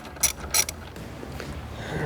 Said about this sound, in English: we're going to be removing the negative battery terminal using a 10mm socket